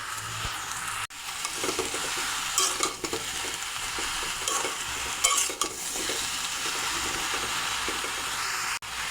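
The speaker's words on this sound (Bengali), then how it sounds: "লাউয়ের সঙ্গে মশলা মিশিয়ে নিয়েছি" Bottle gourd with green chillies, turmeric, coriander powder and salt being stirred in a frying pan, a steady close sizzle with scraping strokes of the spoon throughout and no talking.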